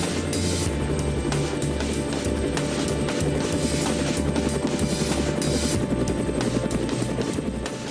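Steady loud police helicopter rotor thumping and turbine whine, heard continuously as if from inside or right under the aircraft, with no speech.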